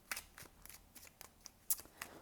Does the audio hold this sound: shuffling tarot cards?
yes